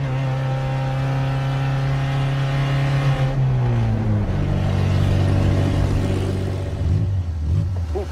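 A car engine holds a loud, droning rev for about three seconds, then drops in pitch and settles into a rough, throaty rumble that carries on steadily.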